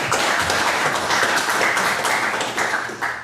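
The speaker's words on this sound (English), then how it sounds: "start off with a round of applause for yourselves and for your past leaders" Applause at a Rotary Club meeting, where a modest group claps steadily and close by with individual claps audible in the mix, easing slightly toward the end.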